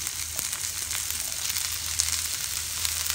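Boiled mussels sizzle and fry in a hot pan for a Thai stir-fry with holy basil, a steady bright hiss with soft crackles running throughout, close and continuous with no talk.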